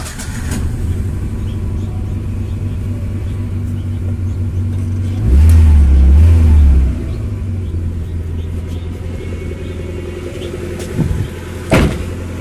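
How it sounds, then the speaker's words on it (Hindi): Car engine started with the radiator filled to the top and cap off during a homemade radiator flush; a low steady idle rumble runs throughout, with a louder surge in the middle and brief bumps near the end. "अब हम करेंगे गाड़ी स्टार्ट"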